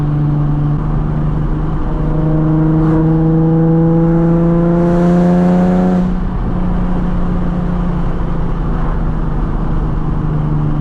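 A Nissan 370Z V6 with a Tomei exhaust drives on a sunset run, its loud, steady engine drone climbing in pitch through the gears, then easing back. The note is close and continuous with no voices over it.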